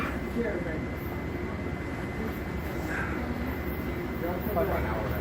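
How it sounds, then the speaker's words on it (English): A Metro-North Hudson Line train bound for Poughkeepsie approaches Croton-Harmon station at night, a continuous low rumble and motor drone with faint squeals, steady and fairly close. "Here comes a train to Poughkeepsie."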